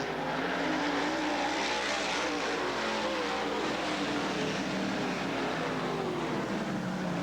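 Race cars roar around Southern Oregon Speedway, their engines blending into a continuous, loud drone that holds steady without a break.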